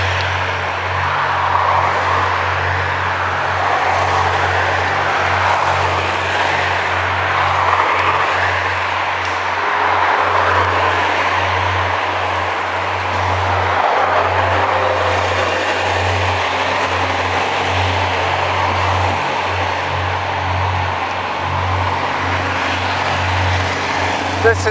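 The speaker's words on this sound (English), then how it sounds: "this is as bad as the traffic ever gets." Road traffic rumbling past a cyclist on a tour of Victoria, a loud, continuous engine drone with low steady hum and passing vehicle swells throughout.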